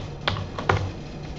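Computer keyboard typing while code is edited: two sharper keystroke clicks stand out among softer, scattered taps over a steady low hum, close and with no talking.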